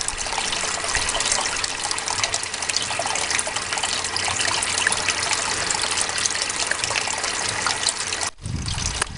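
Water runs in a steady, close, loud rush through a gold sluice fitted with a magnetic trap, continuous trickling and gushing that cuts off sharply near the end before a brief low rumble.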